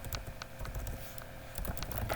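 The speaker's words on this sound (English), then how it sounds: "Let's type up" Rapid clicking of computer keyboard keys, a quick run of close taps in uneven rhythm, fairly quiet and with no voices.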